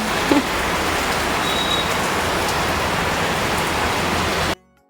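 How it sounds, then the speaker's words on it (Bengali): Heavy rain pours down in a dense, steady roar of broadband hiss, loud and close, cutting off abruptly near the end. "দেখো কেমন বৃষ্টি পড়ছে এই দেখো"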